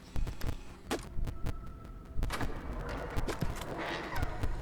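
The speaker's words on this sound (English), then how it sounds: "Why is there a heartbeat sound?" Heartbeat effect in the horror game Five Nights at Sonic's (Knuckles' Week), a series of low, muffled throbbing thumps repeating over a steady hum, mid-loud and close, with no voices.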